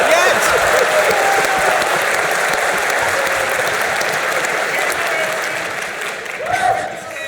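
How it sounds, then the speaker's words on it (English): A large crowd claps steadily at EVE Fanfest, a dense, loud wash of applause that holds throughout before thinning near the end, with a voice cutting in briefly over it. "Clap again"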